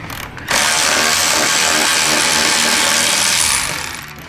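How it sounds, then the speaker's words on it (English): A power ratchet whirs loudly and steadily for about three seconds, close up, as it backs out the bottom suspension bolt on a motorcycle while fitting 2 inch lowering blocks, then winds down. "We're going to get in here and just remove this bottom bolt."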